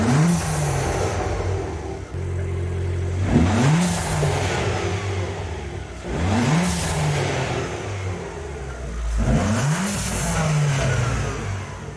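Abarth 595 Pista engine, warmed up, revved repeatedly in four or five rising blips that fall back to a rough idle, loud and close, with no talk.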